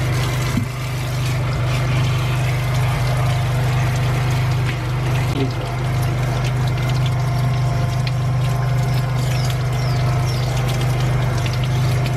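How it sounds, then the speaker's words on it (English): Water runs steadily over freshly dug root vegetables such as yams and yautía being washed of dirt in the mountains of Lares, Puerto Rico, with a constant low pump-like hum beneath the rushing flow. "Alright, so we're gonna wash these things now. Take some of the dirt away."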